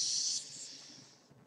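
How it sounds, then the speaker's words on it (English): A single long breath drawn in close to the mic during a guided tapping exercise, a soft airy hiss that fades over about a second and a half. "So take a big breath in again."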